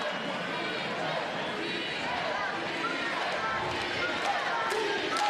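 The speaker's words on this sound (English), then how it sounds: "The crowd is having its say inside the Boutwell Auditorium as well. Much commotion." Crowd commotion fills the Boutwell Auditorium at a sumo competition as a steady, diffuse roar of many voices. A commentator talks over it throughout.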